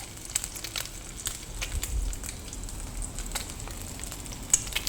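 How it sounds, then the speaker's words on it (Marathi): Soft, steady sizzling of cabbage manchurian balls frying in hot oil in a kadhai, with scattered light crackles and pops and no talking. "आता आपण याला छान असं फ्राय करून घेऊयात तर मी कढईमध्ये एक एक बॉल्स सोडत आहे"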